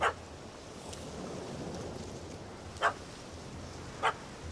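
A dog in The Witcher 3 video game gives three short, sharp barks spread across a few seconds over a quiet ambient background.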